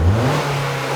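A car engine revs sharply as the accelerator is pressed, then drops back as it is released, loud and close with no talking.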